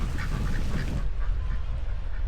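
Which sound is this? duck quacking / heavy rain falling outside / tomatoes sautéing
duck quacking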